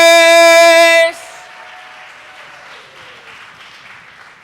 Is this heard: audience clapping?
yes